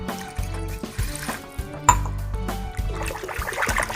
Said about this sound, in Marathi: थोडंसं पाणी टाकूया त्याच्यामध्ये